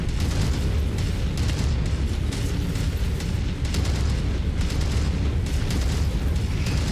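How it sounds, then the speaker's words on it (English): Dense, continuous barrage of missile explosions from the mech combat game Mechwarrior 5 Mercenaries, loud rumbling booms and bursts piling over one another without a break for several seconds. "so many missiles"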